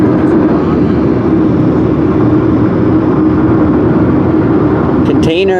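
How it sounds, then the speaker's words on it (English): A freight train loaded with containers and trailers on flat cars rolls past in a steady, loud, continuous rumble and roar, with a brief higher metallic squeal near the end. "Another train."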